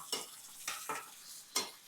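Sliced onions and ginger frying in oil for a potato masala, with several distinct stirring scrapes of a spoon against the pan over a quiet, faint sizzle.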